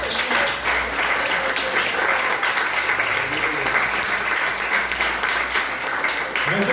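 Church congregation applauding the Lord at the close of a sermon: a sustained, dense wash of many hands clapping at steady loudness throughout, with a murmur of voices blended underneath.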